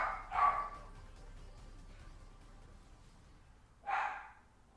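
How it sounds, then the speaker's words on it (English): Pet dogs bark indoors, apparently at a deer outside, with two separate sharp barks a few seconds apart, fairly faint against a quiet room. "Sorry for my dogs barking."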